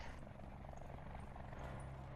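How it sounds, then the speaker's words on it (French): A helicopter flies in Call of Duty Black Ops 4's Blackout battle royale mode, giving a continuous low rotor rumble that is fairly faint and steady throughout. "Y'a un hélico là?"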